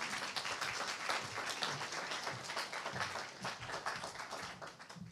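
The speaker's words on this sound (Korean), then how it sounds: "여러분 더 힘찬 박수로 맞아주시기 바랍니다." Quiet, sustained applause from a university assembly at a Korean New Year opening ceremony, welcoming the university president; many hands clap steadily with a slight fade toward the end, no voices on top.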